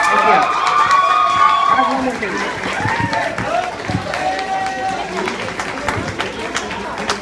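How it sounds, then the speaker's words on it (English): Camp audience applauding Jacob, a burst of clapping and cheering from a crowd that fades down after a couple of seconds, with people talking over and after it. "Let's give Jacob a round of applause."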